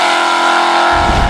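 A 1970 Chevrolet Chevelle SS 454 muscle car's big V8 roars loud and steady, close by, with a deeper rumble swelling in near the end.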